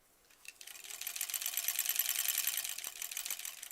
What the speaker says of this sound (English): now we can sew this next piece